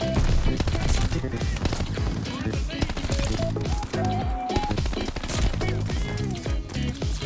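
A Tommy gun fires in rapid bursts in the shooter game Call of Duty: Vanguard, loud and close, over busy game sound and music.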